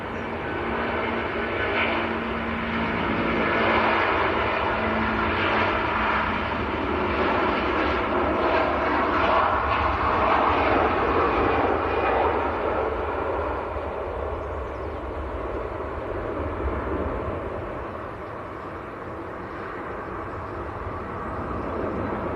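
A Jet2 airliner bound for Tenerife roars steadily at Manchester Airport, a loud, continuous engine rumble that swells and then eases slightly toward the end, with no voices.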